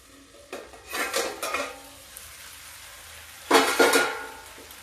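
Metal utensils scrape and clatter against a pan in two short bursts of stirring bell pepper (capsicum) curry cooked in one spoon of oil, with a faint sizzle underneath.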